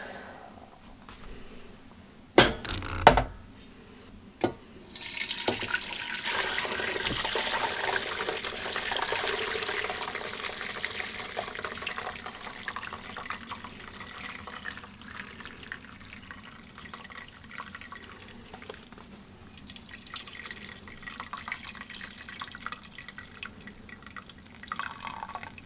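Broth from an Instant Pot poured through a strainer: a few clunks of handling, then a steady splashing, trickling pour of liquid that gradually thins toward a dribble, close by.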